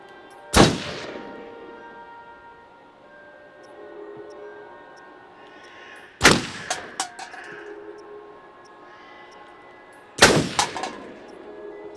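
Three loud gunshots in the video game Until Dawn, spaced several seconds apart, each with a booming echo; the second is followed by a few quicker smaller bangs.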